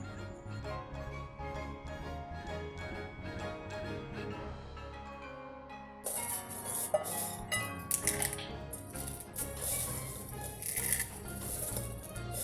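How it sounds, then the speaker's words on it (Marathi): Fried vermicelli is crushed by hand while making a quick chivda snack: dry, brittle crackling and rustling up close, with sharper, denser crunching in the second half. "शेवया ज्या फ्राय करून घेतलेल्या होत्या त्या सर्व बारीक करून घेते चुरगडून घेते"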